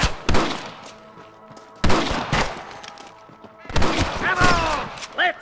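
Three loud rifle shots from snipers in Red Dead Redemption, each ringing out into a long echoing tail, with a voice calling out briefly near the end.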